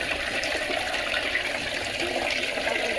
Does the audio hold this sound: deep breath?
no